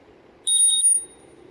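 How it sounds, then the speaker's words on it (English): A Rad Rover electric bike's bell gives a quick ting-ting-ting-ting, four rapid bright strikes with a short ringing decay, close and clear over low road and wind rumble. "Ring the bell on the lady,"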